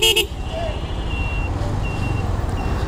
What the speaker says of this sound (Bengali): ওয়াও, হর্নটা তো জোস লাগে